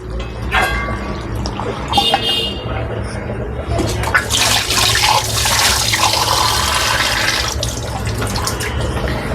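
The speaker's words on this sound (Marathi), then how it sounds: "बघा परत थंड पाणी टाकून शिजत ठेवते" Cold water gushes and splashes into a pot of cooking mutton curry over a background hiss, following clinks and clatter of utensils.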